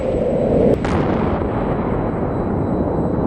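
A cruise missile launches in the VTOL VR flight game, a loud sudden blast followed by a long rumbling roar that slowly fades, with no talk over it.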